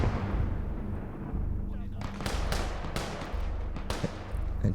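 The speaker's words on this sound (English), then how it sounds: "Here come the mines, I suppose. It's all popping off." Mines and artillery detonate in the Gates of Hell war game, a run of heavy booms and cracks over roughly five seconds, several sharp blasts cutting through a constant low rumble of battle noise.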